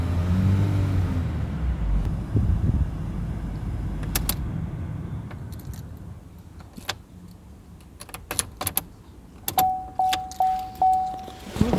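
Car keys jangle as they are handed over beside a car at a used-car dealer. A low engine rumble comes first, then bursts of metallic jingling and clicks grow louder, along with a short electronic beep.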